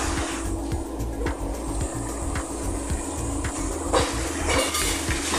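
Metal clatter of a lid settling onto a pot of simmering sautéed string beans (sitaw) in a home kitchen, a brief clink amid a steady bubbling, rattling background hum.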